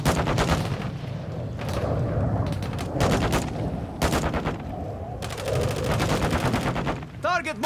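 Rapid bursts of automatic gunfire crack out repeatedly in a Call of Duty MW2 DMZ firefight, loud and close, with short pauses between the volleys.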